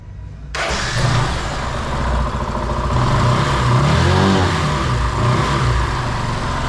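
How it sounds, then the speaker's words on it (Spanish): Bajaj Pulsar 135LS motorcycle engine starting abruptly, then running loud and close with a brief rev swell in the middle before settling back to a steady idle, no talk. "Ahora voy a prender la motocicleta"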